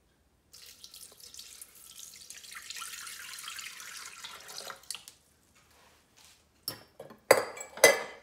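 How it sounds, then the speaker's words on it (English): Water runs from a tap into a bowl as the first step of homemade playdough, a steady splashing stream for about four seconds, then a few clinks of dishes and utensils with short louder knocks at the end. "So the first step is to add 250 grams of water."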